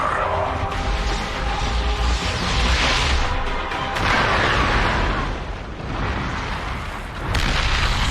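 A world-shattering explosion in a StarCraft II: Legacy of the Void cutscene rolls out as a loud, sustained wall of booming rumble and crashing debris, surging and ebbing over eight seconds.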